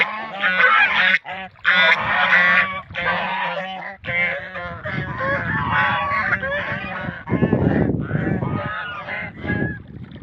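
Loud, close honking and quacking from a group of red ducks on the Karatoya River in Gaibandha, calls overlapping in bursts with brief pauses between.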